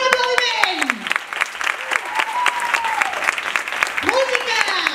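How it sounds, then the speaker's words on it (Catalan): Audience applause at a burlesque end-of-year show with a Great Gatsby theme, steady clapping running through the whole stretch while an amplified voice and music-like tones carry over it. "Un aplaudiment!"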